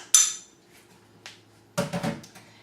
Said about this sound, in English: 2 cups of quinoa, throw it in a bowl.